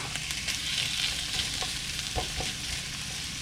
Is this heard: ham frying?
yes